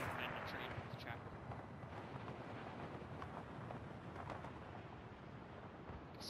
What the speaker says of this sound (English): Explosions on a train.